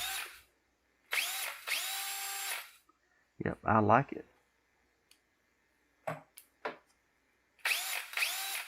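Bursts of a DeWalt cordless drill whirring on and off, several short runs with pauses, a brief spoken remark and clicks between them, testing a repaired battery pack.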